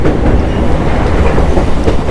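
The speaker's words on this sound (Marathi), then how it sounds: "आणि आपला मस्त प्रवास चालला आहे रेल्वेचा" Steady rumble of a Diva–Roha MEMU train rolling along the rails in heavy rain, with a continuous clatter of wheels throughout and no voices.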